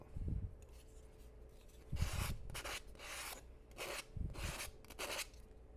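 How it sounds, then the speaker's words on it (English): Sandpaper rubs along the edges of balsa wood frames for an Occre Albatros model, in several short, close rasping strokes with brief pauses between them. "I typically don't sand very much. It's just enough to smooth these edges out."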